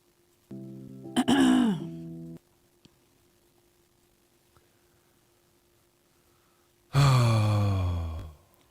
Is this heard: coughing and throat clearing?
yes